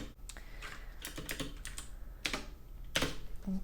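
Computer keyboard typing at a nurse's station during a nurse roleplay: close, crisp clusters of keystrokes in uneven bursts with short pauses, and no talking.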